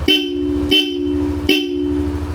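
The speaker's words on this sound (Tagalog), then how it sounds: "Busina, Bosch Europa, pitik-pitik lang." Three short, bright beeps from a Bosch Europa electric horn on a Yamaha Aerox V3 scooter sound at an even pace, each a steady buzzing tone over a low idling hum.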